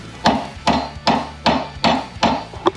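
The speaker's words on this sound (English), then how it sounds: "I'm gonna give this a couple whacks with a hammer just to bring it back into square" Steel hammer striking a golf cart lift bracket on a Club Car, six sharp, evenly spaced metallic whacks about half a second apart, close and loud, with no voices.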